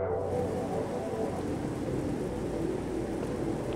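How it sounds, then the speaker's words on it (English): Steady heavy rain pours down in a thunderstorm in Zelda: Tears of the Kingdom, a dense, loud hiss with low rumbling underneath, continuous throughout. "I'm trying to get above the storm."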